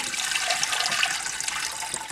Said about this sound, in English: We're going to fill this pressure cooker halfway up to the level of the can.